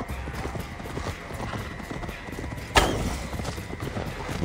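Horse galloping in the video game Assassin's Creed Valhalla: steady, rhythmic hoofbeats clopping close and clear, with a sharp thump partway through and faint game ambience underneath.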